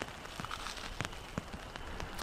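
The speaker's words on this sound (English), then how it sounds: "It's raining again." Rain patters steadily on the fabric of a hot tent during a cold spring night, with a dense, soft hiss broken by scattered louder drops landing close by. No one speaks.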